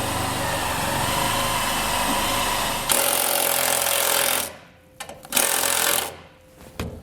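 A power drill drives a screw into the thinner section of a 2021 truck's steel frame while mounting an air compressor, a loud sustained grinding that cuts out, followed by a few short bursts.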